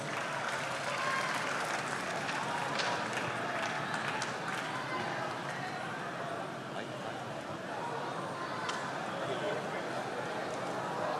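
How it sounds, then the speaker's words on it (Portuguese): A large crowd applauds at an official public ceremony in Bahia, Brazil, marking the start of metro construction. The clapping is loud and sustained, forming a dense, even roar for over eleven seconds, with voices mixed into the crowd noise. "Merece uma salva de palmas."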